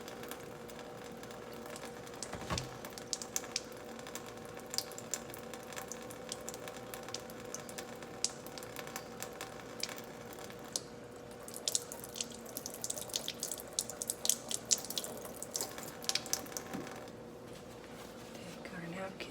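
A paint brush held under a running faucet at a sink, steady close water flow with drips and small splashes, someone speaking over it.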